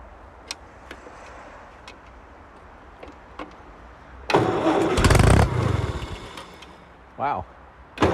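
A Ferguson 35 tractor with a recently fixed carburettor cranks and catches, giving a loud rough burst of engine noise after faint background clatter, followed by a brief second surge near the end.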